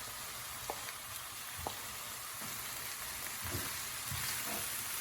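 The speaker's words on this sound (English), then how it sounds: "I'm going to add the aubergine in. Okay, so I'm just going to drop them in now" Aubergine pieces dropped into a pan of hot oil on a low flame, giving a quiet, continuous sizzle and frying crackle with a few soft thuds and clinks as pieces land.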